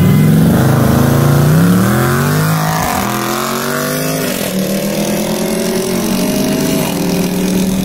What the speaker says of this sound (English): when we did the first ever race between the new, at the time, SRT Durango